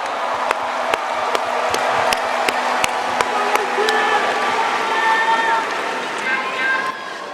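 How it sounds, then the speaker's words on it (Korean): A large crowd at a Democratic Party national members' convention applauds and cheers, with rhythmic claps over a steady roar that fades near the end. "다시 한번 큰 박수 부탁드립니다"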